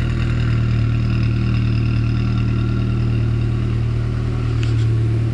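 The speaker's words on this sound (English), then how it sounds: "if I start the engine, you'll notice it sounds a lot better" Car engine with a blown head gasket, treated with a sealant after sitting unused for about 2.5 years, idles with a steady, even low hum, close and continuous, no voices.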